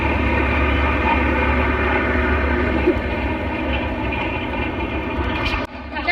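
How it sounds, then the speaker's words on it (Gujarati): A passing train makes a loud, continuous close rumble with a steady roar that holds for several seconds before dropping off abruptly near the end. "જો ટ્રેન આવી છે"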